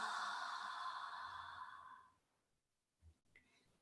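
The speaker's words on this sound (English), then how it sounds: "Continue for a couple more big, deep breaths." A slow, deep exhale of breath during a gentle restorative relaxation session, close and soft, fading into near silence before a faint sniff and a small breath.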